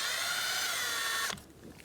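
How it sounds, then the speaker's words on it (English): A power tool with a T30 Torx socket spins out a bolt on the 3.6L engine of a 2008-2020 Dodge Grand Caravan, a steady loud whir that cuts off abruptly near the end, leaving quiet. "this is a T30 Torx bolt. So get a T30 socket,"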